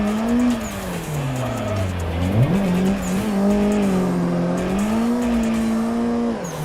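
A car drifts through the mountain-pass bends of Irohazaka in a racing game, its engine droning and rising in pitch with steady, sustained tire squeal throughout, loud and continuous.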